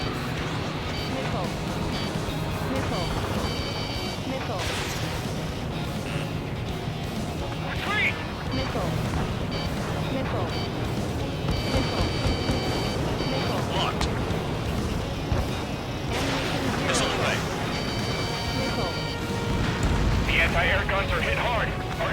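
Missiles fire and explode in an Ace Combat 7 dogfight, with repeated booming bursts and whooshes over a continuous jet rumble, while radio voices talk over the action.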